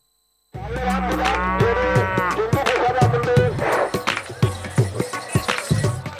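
Dangi bulls at a rural cattle show in Rajur, Maharashtra, low on the ground with repeated loud, drawn-out moos and bellows close by, mixed with shuffling, thuds and crowd noise.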